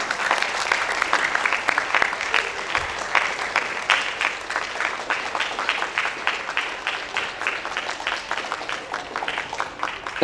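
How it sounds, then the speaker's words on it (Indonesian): Sustained audience applause at a theatre festival in Nusa Tenggara Barat, a steady dense patter of many hands clapping throughout, fairly even in loudness with no voices over it. "Tepuk tangan sekali lagi."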